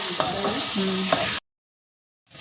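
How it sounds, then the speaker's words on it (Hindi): Brief close-up stirring and scraping of minced beef with yogurt in a sizzling pan on high flame, cut off abruptly by silence before faint sizzle returns. "इसको मिक्स करेंगे और हाई फ्लेम पे इस कीमे को अच्छे तरीके से भूनेंगे"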